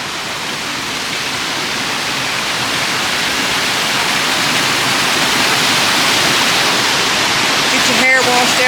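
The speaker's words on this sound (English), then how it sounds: "Haw Creek Falls, y'all, H-A-W." Haw Creek Falls pours into a rock-dammed pool, giving a steady, loud, broadband rush of falling water that builds slightly in strength and continues unbroken, with a brief faint sound near the end.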